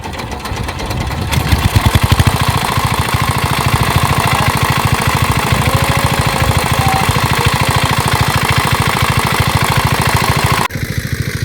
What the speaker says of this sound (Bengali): এখন মেশিন ছাড়বে জমিটা একটু জল দেওয়ার জন্য